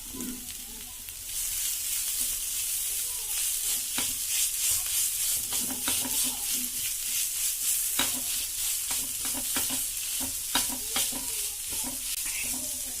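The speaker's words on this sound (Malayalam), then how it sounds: "ഇതിലേക്ക് നമുക്ക് വേവിച്ച് വെച്ച പൊട്ടറ്റോ ചേർത്ത് കൊടുക്കാം." Boiled potato and coriander being stirred into a sizzling egg kabab masala in a pan: steady frying hiss with repeated scraping and clacking strokes, fairly close and continuous, with no talking.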